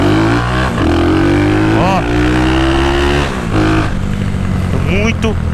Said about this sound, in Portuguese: Vocês não tá entendendo, mano, a força dessa moto.